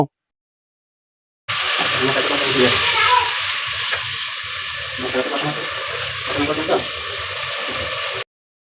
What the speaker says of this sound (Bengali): এখন এটা একটু নাড়াচাড়া করার পর এর মধ্যে সামান্য পানি দিয়ে মশলাটাকে কষিয়ে নিব